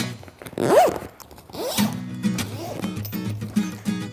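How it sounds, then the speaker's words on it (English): A zipper is drawn closed on the storage bag holding a packed Joolca inflatable hot tub, its cover and pump. The pull comes as a few loud, close, ratcheting bursts, each a short run of rasping zip sounds with brief pauses between. "All right, let's zip it up."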